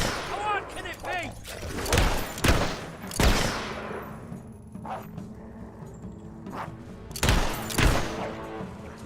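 Rapid bursts of gunfire in Fable III, with sharp shots clustered near the start and further volleys later, loud against a busy battle backdrop with voices mixed in.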